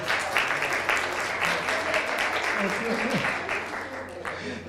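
Audience applause at a novel presentation, loud, dense clapping filling the room for several seconds, with faint voices underneath.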